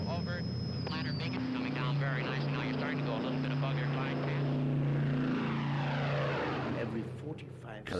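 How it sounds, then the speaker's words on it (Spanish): A droning propeller aircraft engine hums steadily overhead over Kleinmachnow during the 1948–1949 Berlin airlift, with a voice speaking over it for much of the time. "aviones procedentes del oeste sobrevolaban Kleinmachnow"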